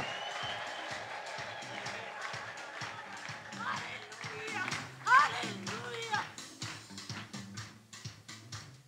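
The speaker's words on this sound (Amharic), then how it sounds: "ልልታ ጭብጨባ" A church congregation applauds and ululates in praise, steady clapping with rising trilled cries over a loud, continuous crowd din.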